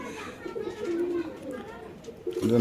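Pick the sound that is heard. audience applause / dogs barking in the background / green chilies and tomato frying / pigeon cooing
pigeon cooing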